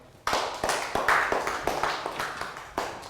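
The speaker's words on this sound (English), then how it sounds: "Rounds of applause for Prel." A classroom of young students claps in a burst of applause for a classmate, a quick run of sharp, uneven hand claps that starts abruptly and keeps going at a steady loudness.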